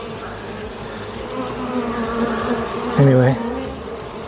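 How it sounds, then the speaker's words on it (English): Honeybees swarming around an open beehive during a summer inspection: a dense, continuous buzzing close by, with one bee droning louder as it passes near, while someone speaks briefly. "look at all these bees. They'll settle down"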